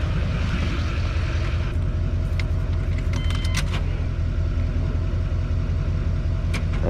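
A 1993 GMC Suburban's engine is turned over in a start attempt, producing a steady low rumble and cranking drone throughout, with brief metallic clinks near the middle and no talking.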